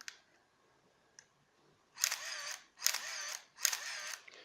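An Olympus OM-1 film camera's shutter fires and its motor drive whirs to advance the film at 2-3 frames a second, three quick bursts in a row after a couple of faint clicks.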